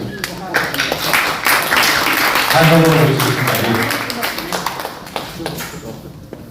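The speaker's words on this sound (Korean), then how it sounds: "박수" Audience applause at a Korean lecture forum as the prime minister is welcomed, a steady broad patter of clapping that holds throughout while someone speaks over it.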